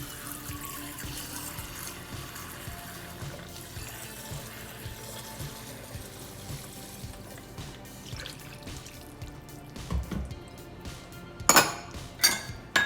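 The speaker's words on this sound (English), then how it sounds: "I'm gonna do 1 cup lemon juice" Lemon juice for a tikka boti marinade pours in a thin, steady trickle into a bowl, followed by a few sharp clinks of a container or utensil near the end, close and alone.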